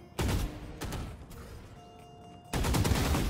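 Gunfire from a gun in the video game Valorant, loud broadband bursts opening and closing the moment with a quieter stretch between, no talking.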